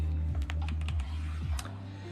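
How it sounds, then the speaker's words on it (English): Clicky keystrokes on a mechanical keyboard come in quick irregular bursts, close and fairly crisp, over a low steady hum, with no talking. "you don't get the same mechanical keyboard ASMR on an iPad"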